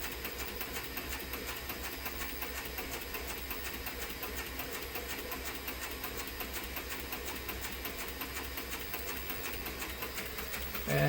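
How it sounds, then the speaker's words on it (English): A Cobra 4 sewing machine's power bobbin winder runs steadily, filling a bobbin with a continuous, even mechanical whir at close range, with no talking. "I'm going to continue winding until I fill the bobbin"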